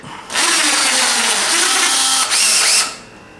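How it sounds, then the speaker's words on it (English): A power drill with a 9/64-inch bit whirs loudly and steadily for a few seconds while drilling holes for an AK47 side rail mount, briefly dipping in pitch before spinning up again and stopping. "And now we're ready to basically drill out those holes."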